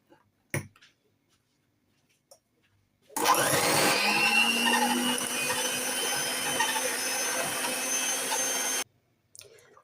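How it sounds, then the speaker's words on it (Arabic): A kitchen blender whirs loudly for about six seconds, blending a fridge-chilled iced drink, with a few faint clicks and handling knocks before and after. "هنا غنطربوه حيت درناه في الفريغو"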